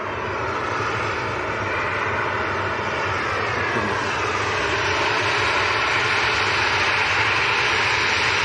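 A Jet2 airliner's jet engines at Manchester Airport give a loud, continuous broadband roar that holds steady and slowly builds, with no voices heard.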